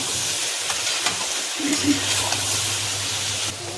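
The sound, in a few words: beans and potato sabzi being stir-fried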